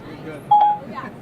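An iPhone placing a call through Siri gives one short, clear electronic beep, moderately loud over a faint background hum, as someone speaks around it.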